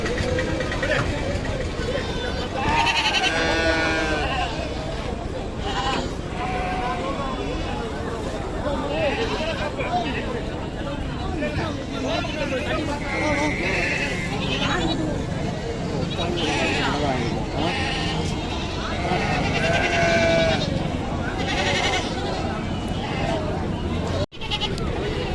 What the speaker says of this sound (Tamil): ஆடு நல்லா பெருவட்டாக இருக்கு.